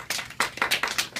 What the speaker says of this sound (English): Let's give Alec a round of applause.